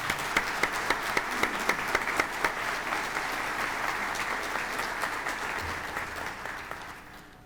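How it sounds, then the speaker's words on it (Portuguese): An audience at the opening of a congress breaks into steady applause, a dense wash of clapping with a few sharper claps early on, fading slightly toward the end. "Por favor, um aplauso a todos esses colegas."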